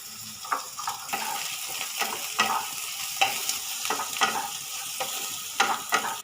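Finely chopped onions frying in a pan, a close, steady sizzle broken by regular scraping stirs and light knocks of the spatula, about one stroke every half second, with no speech.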